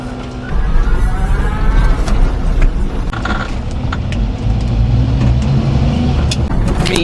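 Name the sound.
mini truck driving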